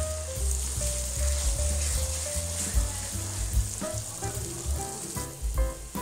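Chicken daleem masala sautéing in a pan, a steady sizzle with intermittent scraping stirs and soft knocks, close and moderately loud, with no talking.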